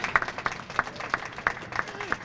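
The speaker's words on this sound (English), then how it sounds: "don't clap for me" A small crowd claps for a newly arrived speaker at a Delaware gathering on welcoming refugees, with sharp, uneven claps that rise and fall across a couple of seconds and do not settle into a steady roar.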